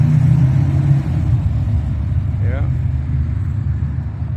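Cars roll past at a rolling car cruise on a street in Flint, Michigan, just after rain, giving a steady, close low engine rumble that persists throughout, with a brief voice partway through.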